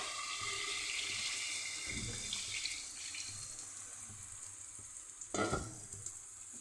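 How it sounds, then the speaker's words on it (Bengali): Water pours and sizzles into a hot frying pan for fish curry, a steady hiss with a louder splash near the end, no talking. "এবার আমি পরিমাণ মতো জল দিয়ে দেবো।"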